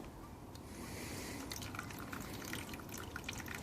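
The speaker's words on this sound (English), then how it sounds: "Now I'm watering this, and I fill it to a certain level." Water is poured onto soil over planted tomato seeds in a tray, a continuous soft trickling and splashing that runs close and quiet, with no talk.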